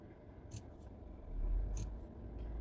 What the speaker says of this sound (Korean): 다려 주시고 나서 이렇게 가위밥을 내어서